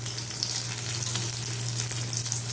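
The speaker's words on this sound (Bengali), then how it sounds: "এবার ভালো মতন ফ্রাই করতে হবে।" Mango fish frying in hot oil, a dense continuous sizzle close up with a low steady hum underneath.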